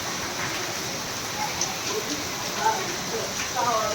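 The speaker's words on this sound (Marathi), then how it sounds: "कि जोरदार पाउस चालू आहे" Heavy rain pours down in an even, continuous hiss that stays fairly quiet and steady, with a faint voice underneath.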